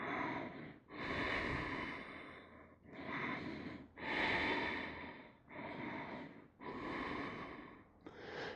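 Slow, deep breaths during a yoga pose, lying prone with chin on the mat and one leg lifted, each long inhale and exhale rising and falling in a steady rhythm of about seven close, clearly audible cycles with no talking.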